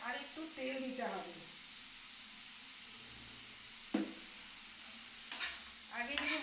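Spices fry in hot oil in a pan while being stirred, making a steady close sizzle and hiss with occasional scraping strokes, and a voice talks briefly at the start and end.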